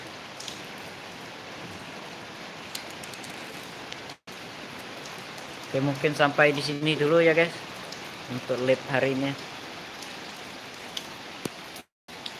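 Steady heavy rain hisses throughout, with a person talking briefly in the middle over the downpour.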